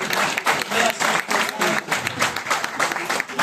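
Applause from an audience at a network-marketing motivational seminar, coming in loud rhythmic waves of clapping that swell and ease repeatedly, with some crowd noise mixed in.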